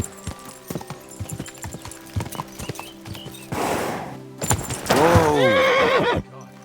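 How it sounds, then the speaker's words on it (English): A horse in the video game Kingdom Come: Deliverance 2, with close clip-clopping hooves followed by a loud whinny and a second drawn-out neigh, with no talk. "That looks like a bloody expensive horse."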